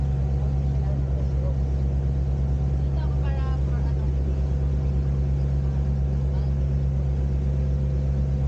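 Steady, loud droning of a motorboat engine running continuously on the water at El Nido, Palawan, with wind and water noise and brief faint voices partway through.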